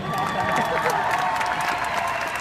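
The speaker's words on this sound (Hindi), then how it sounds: "जोरदार तालियां इनके लिए।" An audience at a comedy show applauds, a dense, steady wash of clapping with some cheering that stays loud throughout.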